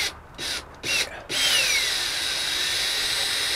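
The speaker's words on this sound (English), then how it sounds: "titanium coated drill bits and using them as a starter once I figure out where the screw is going" Drill with titanium-coated bits boring pilot holes into sanded plywood for self-tapping screws, heard outdoors in hot weather: a few short high whines in quick bursts, then one steady sustained whirring run, close and loud with no talking.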